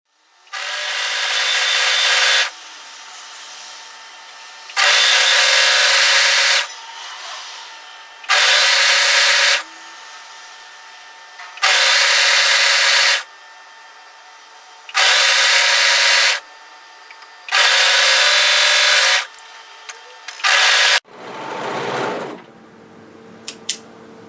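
Sewing machine stitching a wrap-front bodysuit in repeated bursts of a few seconds each, separated by pauses, loud and close, ending with a lower-pitched whir.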